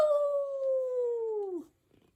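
A voice imitates a dog howling while reading a story aloud, one long sustained falling howl that trails off, then quiet.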